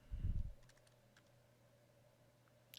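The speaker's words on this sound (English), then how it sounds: "I'm going to hit home again on my keyboard" A single muffled key press on a computer keyboard is followed by quiet room tone and a faint click at the very end.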